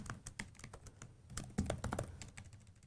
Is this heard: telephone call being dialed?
no